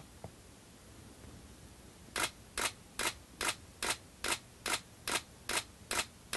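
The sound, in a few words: camera shutter firing a burst of HDR frames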